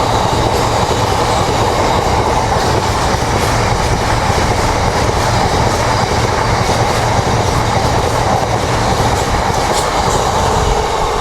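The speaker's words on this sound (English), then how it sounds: "will be a GBRF Class 66 working service from Wellingborough to Peak Forest" A GBRF Class 66 diesel freight locomotive and its wagons pass at Chesterfield on the Midland Main Line, a loud, steady rumble with rhythmic clickety-clack of wheels over rail joints, heard close and continuous throughout.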